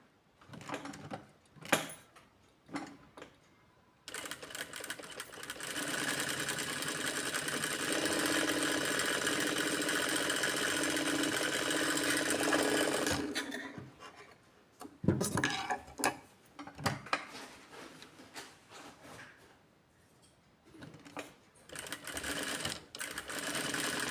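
A sewing machine runs a straight-stitch practice line with half-inch spacing, starting with short bursts, then whirring steadily for several seconds up close before stopping and giving a few more brief runs.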